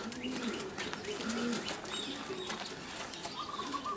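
Racing pigeons coo repeatedly at the loft, soft rounded calls close by, with a few chirps and light rustling between them and no talking.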